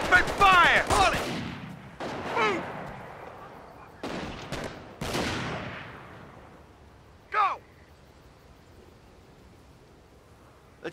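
Gunfire from infantry in Company of Heroes, a D-Day campaign battle: several bursts of shots and booms, with broadband blasts around the start and middle and a sharper crack later, mixed with game voices and battle ambience.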